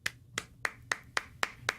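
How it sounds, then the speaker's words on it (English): A lone person gives a slow golf clap, seven crisp, evenly spaced hand claps about a quarter second apart, close and fairly quiet, with nothing else around them. "That deserves a golf clap."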